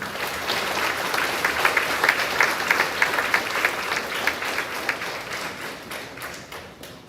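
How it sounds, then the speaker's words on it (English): An awards-ceremony audience applauds steadily, a dense wash of many hands clapping at moderate distance with a few sharper close claps, then tapering off near the end. "Give him a round of applause, please."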